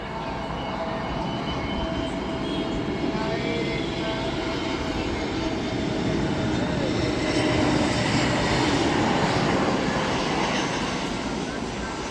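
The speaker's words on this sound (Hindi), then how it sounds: "देखिए, यहाँ पे एक फ़्लाइट भी उतर रहा है" An airplane comes in to land near a railway line in India. A loud, steady engine roar fills the whole stretch without a break, probably heard from inside or beside a moving train.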